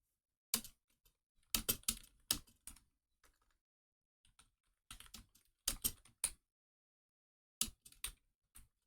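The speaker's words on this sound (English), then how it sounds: "I'm usually a little bit faster about typing than I am right now" Bursts of typing on a computer keyboard, quick clusters of key clicks separated by short pauses, close and fairly quiet with no voices.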